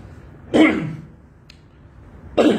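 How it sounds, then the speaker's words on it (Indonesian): Two rough coughs or throat clears a couple of seconds apart, close and fairly loud, with quiet in between. "Saya batuk ya."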